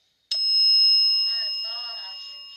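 A single bicycle-style bell rings out sharply and then rings on, slowly fading, while a person speaks quietly underneath.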